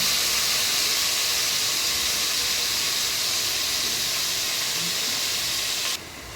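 Tomatoes cook down in hot oil with a loud, continuous close-up hiss of sizzling that drops abruptly to a softer level just before the end.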